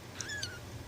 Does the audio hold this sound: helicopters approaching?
no